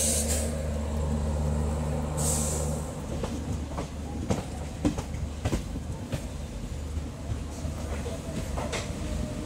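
Garib Rath Express passenger train running over a bridge near Santragachi, with a low rumbling roar and irregular metallic clatter of wheels on track, loud and close throughout.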